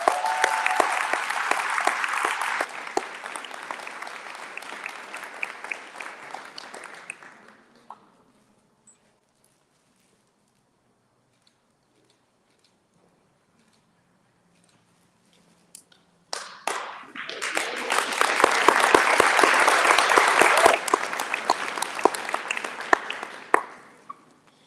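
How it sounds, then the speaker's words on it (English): Audience applause for Cafeina Cafe at a City Heights district event, a loud sustained burst of clapping that fades to silence, then a second strong wave of clapping rises and continues. "Please give a big warm hand of applause for Cafeina Cafe right here in City Heights."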